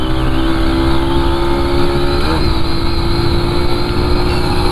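TVS Sport and Bajaj Platina motorcycles racing side by side, their engines droning loud and steady throughout with a brief rise in pitch partway through.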